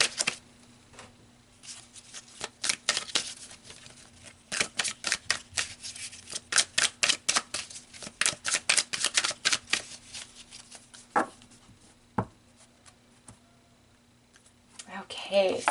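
Tarot cards are shuffled by hand in a series of rapid riffling bursts, a crisp papery flutter that repeats many times, with short pauses and a few soft taps between them. No voice is heard over them.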